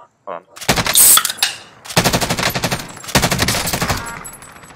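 Rapid automatic gunfire in a battle royale shooter match, three loud sustained bursts of close shots separated by short pauses, with a brief voice at the start.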